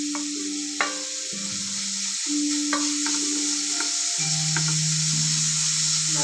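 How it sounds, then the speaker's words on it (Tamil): Beetroot sizzles in ghee in a pan while being stirred, a steady close frying hiss broken by scraping strokes and occasional clinks, with no voices. "அதை அந்த நெய்யில் போட்டு மிக்ஸ் பண்ணி நல்லா வதக்கிக்கிடணும்."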